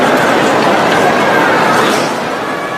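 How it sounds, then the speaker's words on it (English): A large crowd murmurs in a dense, steady wash of chatter while people wait during a worldwide Microsoft outage that has grounded flights. No single voice stands out, and the crowd noise fades slightly toward the end. "That is the sound of people just waiting"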